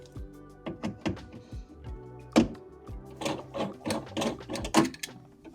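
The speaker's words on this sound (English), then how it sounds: "I'm going to keep working around here with these Riv-nuts." Riv-nuts being set in a Mercedes E-Class door, a series of sharp mechanical clicks and ratcheting squeezes from the installation tool, close and quiet with no talking.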